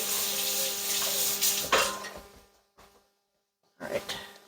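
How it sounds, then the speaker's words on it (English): Tap water runs and splashes while a small kitchen funnel is rinsed under it, a steady broadband rush for about two seconds that fades out, then a short second burst of running water near the end. "Let me rinse this funnel."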